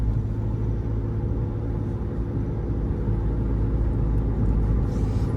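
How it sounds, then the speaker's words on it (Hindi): Worn rear wheel bearings on a moving Mahindra XUV500 produce a constant low droning rumble inside the cabin, steady and loud throughout with no voices over it. "जो पीछे के व्हील है मेरे, उनके जो बेयरिंग है उनमें बड़ी आवाज़ है"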